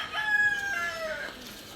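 A rooster crows once nearby, a single drawn-out call, with faint background noise.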